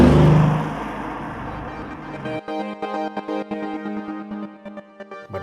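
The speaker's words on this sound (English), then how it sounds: "But when you want to play Christian Grey, all you need to do is step on the throttle and unleash the AMG beast." A Mercedes-AMG S63 Coupé engine swelling into loud acceleration, then settling into a pulsing, stuttering drone of repeated bursts, close and alone without talk.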